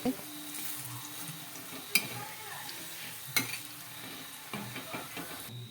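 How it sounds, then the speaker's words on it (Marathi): Vadi pieces shallow frying in oil on a hot tava give a steady close sizzle, broken by a few sharp clinks of a utensil against the pan. "या वड्या आहेत ते शॉलो फ्राय करून घेत आहे"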